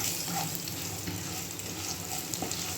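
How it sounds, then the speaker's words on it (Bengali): Cumin, dried red chilies and green chilies fry in hot oil with potato and cauliflower, a dense, steady sizzle running close and continuous with occasional stirring clicks. "এবার একটু জিরে দিয়ে আর শুকনো লঙ্কা, একটু কাঁচা লঙ্কা দিয়ে ভেজে নিচ্ছে"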